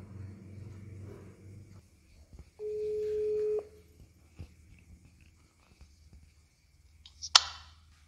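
A single steady telephone ringing tone sounds for about a second, clear and close over quiet line hiss, followed by faint clicks and a sharp click as the call connects.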